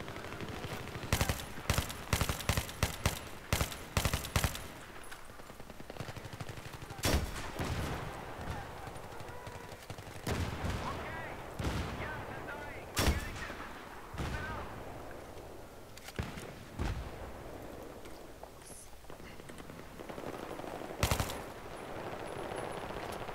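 Battlefield 3 squad deathmatch on the Grand Bazaar map: rapid bursts of rifle and machine-gun fire crackle throughout, with heavier blasts that fit an RPG, dense at the start and then in scattered volleys over a steady game background.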